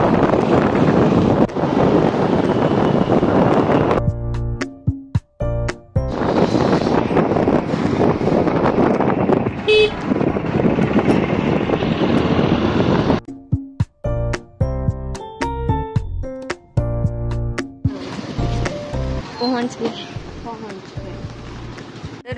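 Wind rushing past a moving scooter in Jammu, a loud, continuous buffeting roar on the microphone, with people talking over it at times.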